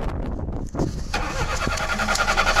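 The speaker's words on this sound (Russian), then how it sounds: "Заведите, пожалуйста, машину." A carbureted car engine with a Solex carburetor cranks briefly, catches and settles into a steady mid-pitched running note, all fairly close and with no talk.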